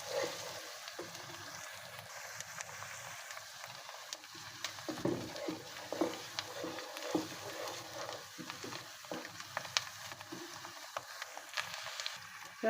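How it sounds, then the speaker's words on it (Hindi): Whole garam masala frying with golden onions in a pan for keema mattar aloo kachori, giving a soft, continuous sizzle with intermittent stirring scrapes, fairly quiet throughout. "अब हम इसमें अपना साबुत गरम मसाला डालेंगे, और इसको भी साथ ही फ्राई करेंगे"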